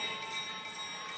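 Lap bell ringing at a World Cup speed skating race in Milwaukee: a continuous, bright metallic clanging over arena ambience for just over a second, with no talk.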